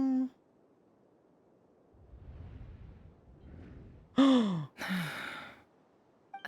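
A Genshin Impact character gasps sharply, a brief breathy intake followed by a second short voiced breath, loud and close after near silence with faint low rumble beforehand.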